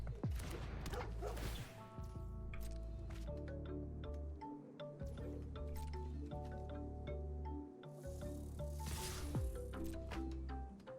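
A cartoonish puppy dog barks in the Magic: The Gathering Arena digital card game, with short yips set among layered game music and chimes, fairly close and clear.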